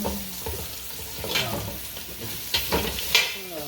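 Garlic sautés in a pan for chicken, a soft steady sizzle broken by a few stirring scrapes, close and fairly quiet with no voices.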